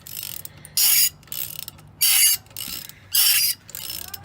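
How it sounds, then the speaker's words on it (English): Ratchet work frees a pulley from a 5.4L engine being swapped into a Mustang: four sharp bursts of rapid ratchet clicking, close and loud, separated by short pauses with softer mechanical clatter between them. "Removing the pulley."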